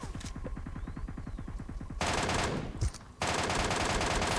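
Full-auto spray from a gun in a video game: a rapid, even burst of close shots, then denser, louder sustained firing with a brief break before it resumes, with no voices.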